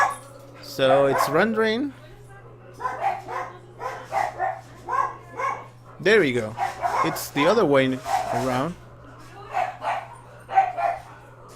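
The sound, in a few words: dogs barking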